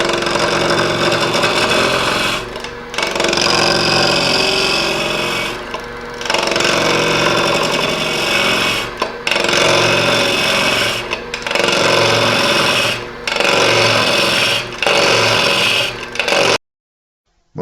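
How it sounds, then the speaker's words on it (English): A wood lathe spins a log of tree wood while a bowl gouge roughs it down, a loud continuous scraping, rasping cut broken by short pauses between passes, close up. "we're going to hog it off as usual with the bowl gouge"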